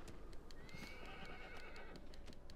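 A horse neighs and whinnies in the Shadow of the Colossus game on PS4, a clear high whinny with soft clip-clop hooves in a repeating rhythm underneath, heard alone without talk.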